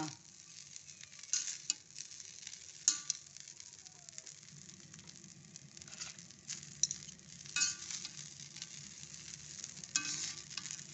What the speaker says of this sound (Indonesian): langsung kita goreng kita goreng beberapa saat